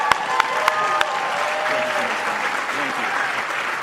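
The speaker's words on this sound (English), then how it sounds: "One more round of applause." A stand-up comedy crowd claps in a sustained wash of applause, with a few sharp close claps at the start, filling the room at moderate loudness before thinning slightly.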